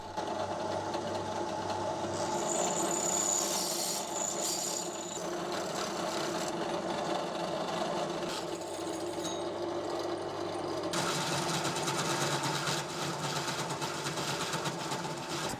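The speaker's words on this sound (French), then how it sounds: "je vais mettre un petit coup de scie-cloche si mon tour veut bien se lancer" A 50 mm hole saw cutting on a lathe, a steady loud mechanical whir and grinding that runs the whole time, with the tone shifting partway through as the cut changes.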